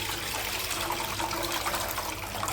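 Tamarind being squeezed and mixed by hand in a bowl of water, giving a steady wet swishing and trickling that stays close and fairly loud throughout with no talking.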